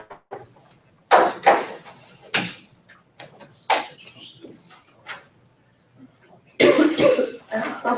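Someone with a cold coughs several times in a quiet room, sharp separate bursts spaced over the seconds, ending in a longer cluster of coughing and throat clearing.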